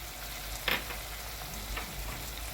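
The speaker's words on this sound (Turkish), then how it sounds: "etimiz, soğanımızla beraber biraz kavruldu." Meat and onions fry together in a pan for çoban kavurma, giving a steady, moderately loud sizzle and crackle with no talk. One sharp scrape of a spoon stirring sounds near the start.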